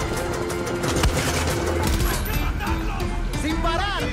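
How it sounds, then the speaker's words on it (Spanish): Dense gunfire from a Far Cry 6 firefight crackles in rapid, overlapping volleys, keeping up a continuous loud clatter while voices shout over the noise. "¡Alguien disparó!"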